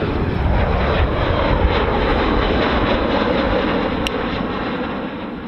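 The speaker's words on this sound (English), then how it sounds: "we have a American Eagle plane taking off" An American Eagle airliner taking off at Minneapolis–Saint Paul airport, a loud, steady broadband engine roar held close and constant throughout, easing slightly toward the end, with no voices.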